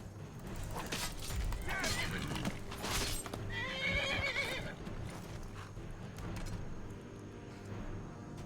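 A horse in Skyrim whinnies and neighs in distress while under attack, with hooves clattering, a couple of loud cries in the first half over busy game ambience and combat noise.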